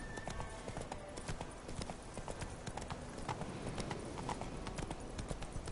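Hooves of Roach, a horse in The Witcher 3, clopping in a quick steady rhythm on the ground, close and continuous with faint background ambience.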